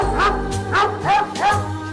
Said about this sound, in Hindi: ये डॉग तुम्हें देख के भौंक क्यों रहा है?